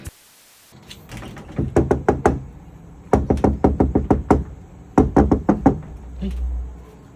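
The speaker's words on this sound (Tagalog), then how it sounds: "Saan na kumakatok, masakit yung ulo ng mami mo." Someone raps on a door in three quick bursts of sharp, loud knocks, each a rapid run of several hits, close and clear with no talking.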